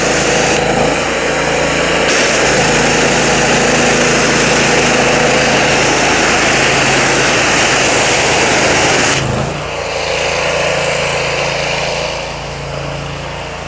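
A hot water pressure washer runs steadily at close range with its heater firing, a continuous droning engine and burner roar that holds for several seconds, then drops abruptly and settles to a softer, lower hum.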